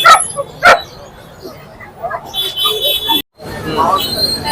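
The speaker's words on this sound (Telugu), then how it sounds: "ఇక్కడ కూడా కొన్ని రకాల పప్పీస్ డాగ్స్ అవి ఉన్నాయి" At a Sunday pet market in Nellore, puppies and dogs give sharp, scattered yips and short barks close by, mixed with a faint whimper, over crowd babble and people talking.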